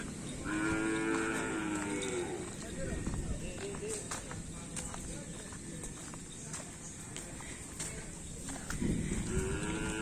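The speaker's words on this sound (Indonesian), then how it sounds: "Ada sapi besar" Large bulls at a Madurese bull-racing (karapan sapi) training ground low and moo loudly at the start and again near the end, with scattered hoof clops and shuffling between the calls.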